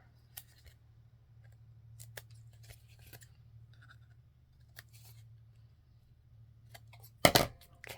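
Scissors snipping paper lace for a masterboard, quiet scattered snips at a close distance over a low hum, with a louder cutting burst near the end.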